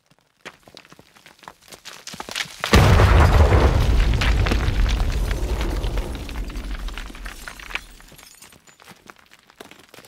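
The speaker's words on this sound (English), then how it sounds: "create an explosion with debris sounds" A sound-effect explosion layered with gravel and glass debris: a sudden heavy boom that rolls into a dense rumble, with scattering, shattering fragments trickling and tapering off over several seconds before quiet returns.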